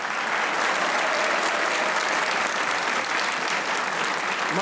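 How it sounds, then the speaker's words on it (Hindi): A studio audience at a Pakistani comedy talk show claps loudly and continuously, a dense, even wash of applause filling the whole stretch without pause. "तालियां यार तालियां"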